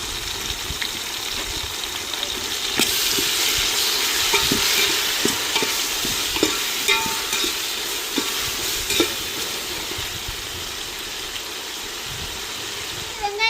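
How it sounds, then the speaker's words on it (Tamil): Tomato, ginger paste and green chilli sautéing in a pan for fish biryani, a loud continuous sizzle with frequent rhythmic scrapes and taps of a stirring spoon, sizzle fading slightly toward the end. "தக்காளி இஞ்சி பேஸ்ட் பச்சை மிளகாய் வதக்கி வந்துருச்சு"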